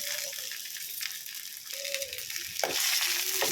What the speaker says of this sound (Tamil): இதை வந்து நல்லா கலர் சேஞ்ச் ஆகி சுருங்குற அளவுக்கு நல்லா வதக்கிக்கலாம்